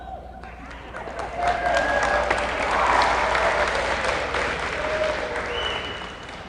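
Applause and cheering from a crowd of cadets at a naval JROTC change of command ceremony, a steady dense wash of clapping and whoops that swells in the middle and stays loud throughout.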